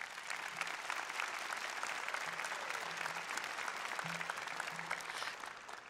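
Graduation ceremony audience at Altavista High School applauding steadily for six seconds, dense sustained clapping from a large crowd filling the hall without a break.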